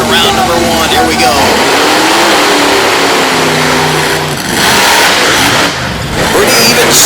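A monster truck engine at a race start, loud and close, revving hard with a rough sustained roar and brief dips in pitch between bursts, heard under an announcer talking over it.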